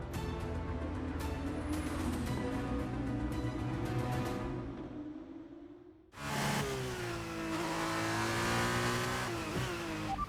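Formula 1 race car in the F1 23 video game pulling out on a fresh set of tyres, its engine loud and continuous; the pitch climbs steadily, drops away briefly, then a second engine surge cuts in and rises again.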